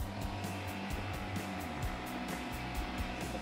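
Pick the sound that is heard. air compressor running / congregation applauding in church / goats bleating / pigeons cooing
air compressor running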